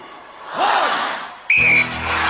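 Referee's whistle at a Gladiators contest, one sharp bright blast rising over an excited crowd, followed by continued loud crowd noise.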